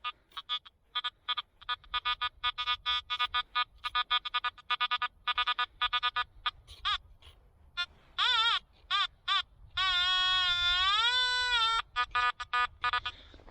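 Metal detector electronic beeping tones in rapid pulsing bursts on a beach, shifting pitch and warbling, then a longer sustained wavering tone, loud and close with no talking.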